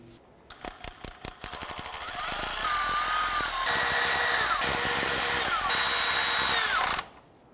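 A power tool snugs timing kit bolts on a 2009-2015 Honda Pilot engine, starting with a quick run of ratcheting clicks and then settling into a loud, continuous whirring whine of several seconds before cutting off.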